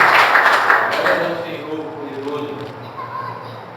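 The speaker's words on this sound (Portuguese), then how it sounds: "Você pode dar um aplauso ao Senhor?" A church congregation applauds during a Portuguese-language sermon, a loud broadband wash of clapping that peaks early and tapers off, with murmured voices and a preacher's voice underneath.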